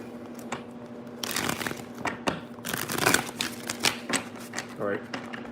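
Tarot cards being shuffled by hand, a series of crisp riffling and slapping bursts close by, with a faint steady hum underneath.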